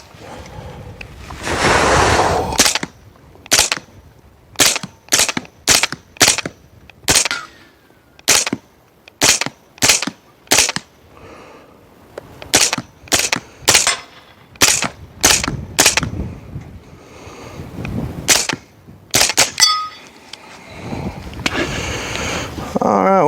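A suppressed Aero EPC 9 carbine fires a magazine of sharp, muffled cracks, about twenty of them. They come singly and in quick pairs with short gaps between, close and loud, with no talking.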